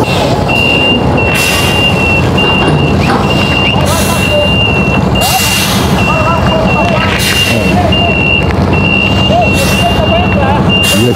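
A truck's reversing beeper sounds in a steady repeating rhythm over a rumbling engine and air hiss as it backs onto a river barge at a port in Manaus, with people talking nearby.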